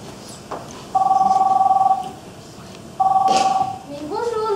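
An old-style telephone rings in two long electric bursts at a seaside grand hotel restaurant, loud and close, separated by a pause, with brief voices and a rising tone following.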